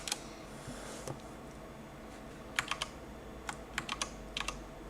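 Keys on a computer keyboard clatter in short, irregular bursts of sharp clicks, fairly close, with a few isolated taps early on and quick clusters later against a low steady hum, no talking.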